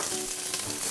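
Onion frying in hot olive oil in a heated pot, a steady close sizzle with soft crackling that runs on evenly throughout, no voices.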